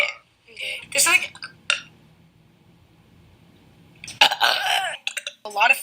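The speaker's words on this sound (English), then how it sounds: "Sorry, I burped in the middle of that." A person eating a burger-style bun lets out a low, rumbling burp, about two seconds long, between bursts of their own chatty talk. The burp sounds close and fairly quiet.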